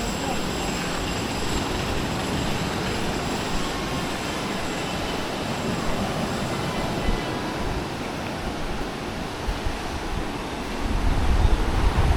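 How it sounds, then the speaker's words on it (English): Ocean surf on Hua Hin beach churned up by an offshore monsoon, a loud continuous roar of breaking waves with heavy wind rumble, building slightly toward the end. "there's a monsoon offshore and it's kicking up the waves"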